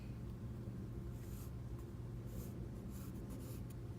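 A pencil scratches lines across paper during a still-life drawing, in several short soft strokes over a low steady background rumble.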